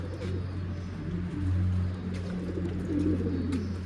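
Pigeons coo in a coop with young chicks, making low repeated throaty coos that overlap and swell, close and continuous, with faint rustling and no clear talk.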